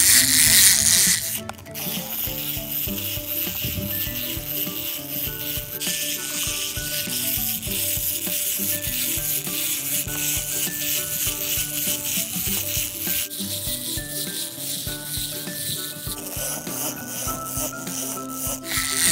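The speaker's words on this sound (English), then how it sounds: "So this is a really cool wind-up toy." A walking wind-up Mater toy from Disney Cars 3 rattles and clicks continuously as its spring-driven mechanism runs, a busy, close, fairly loud mechanical chatter with no voices.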